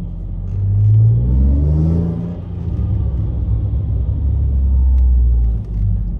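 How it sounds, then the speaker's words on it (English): Ford Mondeo ST220 engine revving on the streets of Sofia, Bulgaria, a loud close rumble that climbs and falls through a couple of strong revs with a whining supercharger layered over it, heard alone without talk. "Was that the supercharger? Whining."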